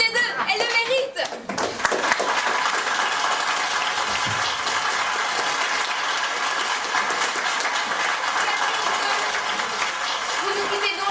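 A studio audience at a French game show bursts into sustained applause for two contestants, the clapping starting abruptly after a brief spoken moment and continuing loud and steady throughout.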